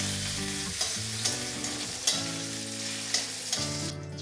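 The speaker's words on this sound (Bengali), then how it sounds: "এবার আমি একইভাবেই কিশমিশগুলো হালকা করে একটু ভেজে নেব।" Raisins frying in ghee in a pan, a continuous close sizzle with periodic spoon clinks against the pan as they are stirred.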